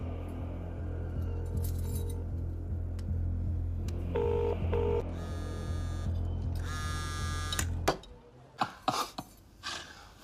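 A quick pair of electronic dialing beeps over a steady low hum as a phone call is placed on speakerphone, followed by bright repeated tones before the background drops away.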